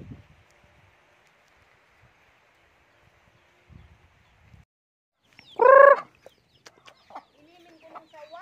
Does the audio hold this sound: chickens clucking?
yes